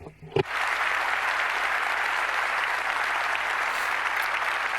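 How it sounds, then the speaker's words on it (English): A crowd at the Ducati 2019 world premiere applauds the technicians and engineers, with loud, dense clapping that bursts in after a brief sound and holds steady throughout. "A big, big round of applause for all of our technicians and engineers in Bologna"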